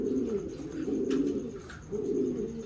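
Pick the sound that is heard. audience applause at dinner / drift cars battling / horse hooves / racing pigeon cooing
racing pigeon cooing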